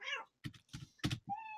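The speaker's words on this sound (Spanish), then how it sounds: "¿Por qué está sonando solamente el canal del gato?" A cat sound effect of several meows and a caterwaul, played back alone inside Pro Tools audio editing software during a class, with short tonal bursts and gaps between calls.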